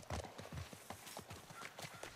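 Horse hooves clip-clop at a steady trot in The Last of Us, crisp, evenly spaced strikes heard close and fairly quiet, with no voices over them.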